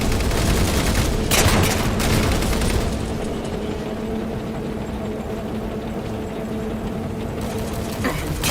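Gunfire from a Ghost vehicle in Halo 4, a dense burst of rapid shots with booming impacts early on, then a quieter rumbling battle background with a final sharp crack.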